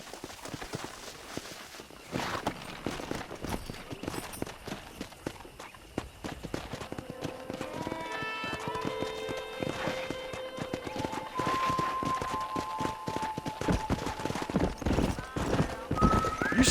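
Horses in the Red Dead Redemption video game, with steady hoof clip-clop and footfalls throughout and occasional whinnies, set under a rising musical score that grows louder toward the end.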